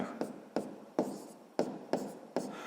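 A pen scratches across paper while working a sixth-grade math exercise, six short, distinct writing strokes at a steady rhythm, close and clear with no talking.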